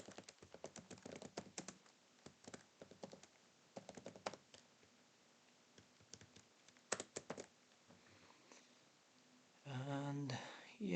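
Irregular bursts of close, quiet key clicks from typing on a computer keyboard while entering text in PowerPoint, pausing between runs, with a short murmur of voice near the end.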